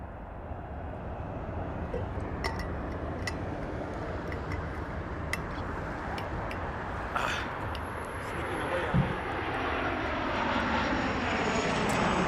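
A Janet airline jet taking off from Harry Reid International Airport in Las Vegas, heard as a steady, loud engine roar that builds slightly toward the end, with no talking over it.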